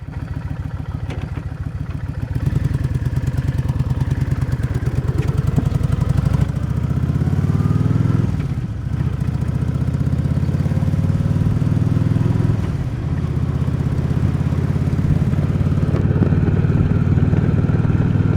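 A 110 motorcycle engine running while riding on a rural road, a loud close buzzing drone that rises and falls as the rider shifts and accelerates, continuous throughout with no voices.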